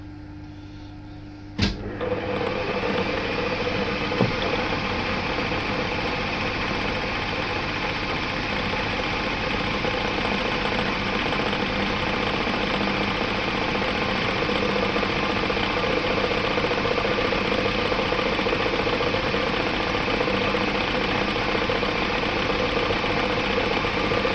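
Metal lathe taking a light 0.5 mm cut on a clutch part for a car builder, a steady whirring machine drone with a sharp click near the start and no talk.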